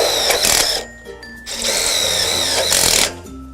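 Power drill driving screws into a steel purlin on an Absco double roller garage shed frame, two loud bursts of whirring separated by a short pause, close up.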